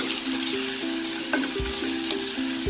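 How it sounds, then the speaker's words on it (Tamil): Steady sizzling of onions and green chilies sautéing in a pan, close by, with occasional stirring clinks and a faint background hum. "பச்சை மிளகா, வெங்காயம் இது எல்லாத்தையும் இந்த பேனில் போட்டு நல்லா வதக்க போகிறேன்."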